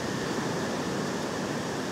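Sea waves on a beach make a continuous broad wash of surf, steady and fairly close, with no voices over it.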